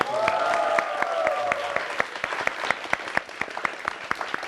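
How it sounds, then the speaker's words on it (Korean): A Korean lecture-show studio audience claps steadily, a broad, even applause that thins into distinct scattered claps, with a brief tonal sound near the start. "여러분 다시 한번 박수 좀 한번"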